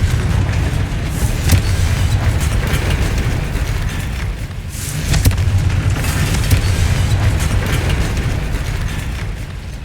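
Confringo fire spell blasts in Hogwarts Legacy, heard as continuous booming explosions and rumbling impacts with a second heavy burst midway, loud and dense with no talking.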